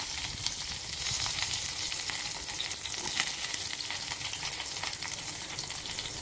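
Steady close sizzling of cumin, chillies and curry leaves frying in hot oil, with crackles and small pops throughout.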